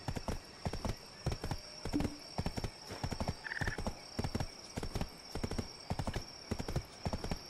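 A horse's hooves clip-clop in a steady, loud, rhythmic gait in a video game, with an occasional whinny and a constant high tone running underneath.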